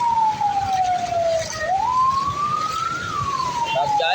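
A single wailing emergency siren from an ambulance or fire truck in flood-blocked traffic slides down, climbs and falls again, loud and close over a constant low traffic rumble, with faint voices in the background.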